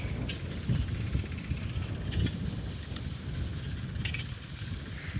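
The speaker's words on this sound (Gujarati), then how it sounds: "ટ્રેક્ટર હાલે." A low engine rumbles steadily, like a tractor idling close by, with brief hissing bursts recurring every couple of seconds.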